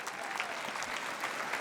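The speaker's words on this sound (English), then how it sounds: "Keep clapping." Audience members at an awards dinner applaud in a steady, dense burst of clapping that stays even and moderately loud from start to finish.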